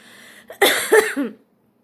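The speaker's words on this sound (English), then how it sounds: "I still kind of have that cough" A single harsh cough from a person recovering from pneumonia, followed by a couple of rougher, throaty hacks, close and fairly loud, then silence.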